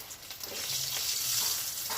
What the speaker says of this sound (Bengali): তেল তো গরম হয়ে গেছে, তাতে একে একে দিয়ে দিচ্ছি সিদ্ধ আলুগুলো।